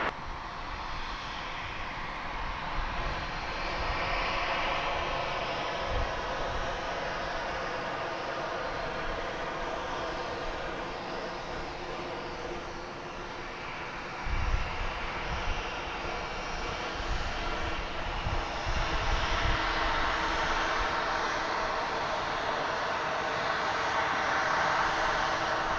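An Airbus A319 airliner roars steadily at DFW Airport, a loud broad jet rumble and whine holding for the whole stretch with no talk over it.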